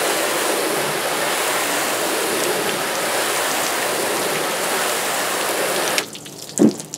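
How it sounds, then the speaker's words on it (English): A steady, close hiss of water sprayed across a flat car panel to test how two SiO2 coatings shed it, running evenly for about six seconds before cutting off, followed by faint dripping. "Now what I'm going to do is hit it with water."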